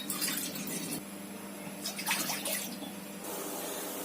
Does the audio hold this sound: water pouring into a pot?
yes